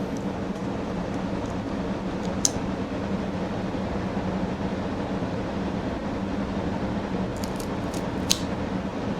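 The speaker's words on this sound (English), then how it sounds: "Let's go ahead and get this thing cut open." A Rocky Patel Black Label cigar being cut with a cutter, with two short, crisp snips close by over a steady low hum and no talking.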